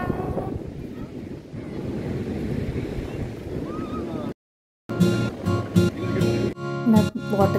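Waves and wind at Gokarna main beach on a cloudy June day, steady broadband surf and gusting wind buffeting the microphone, cut by a brief gap, then louder choppy rumble.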